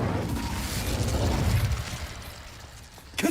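A fire spell cast in a Harry Potter video game: a sustained low rumbling, crackling burst lasting about two seconds that fades out, followed by a brief sharp pop at the end.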